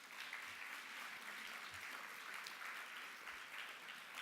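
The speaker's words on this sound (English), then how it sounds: "Let's give them a round of applause." An audience at a book fair gives a round of applause for sponsors, steady dense clapping heard throughout at a moderate distance, with no voices over it.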